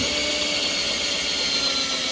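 A power drill bores a hole through the heat exchanger and tunnel of a Yamaha Viper 700 snowmobile, a loud, steady, high-pitched whine close up with no pauses.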